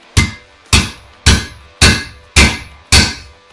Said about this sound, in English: Then I'll come in with a couple punches and a hammer to drive it home.